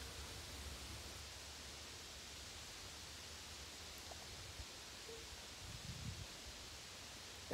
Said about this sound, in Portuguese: Olha esse barulho de vento, ó.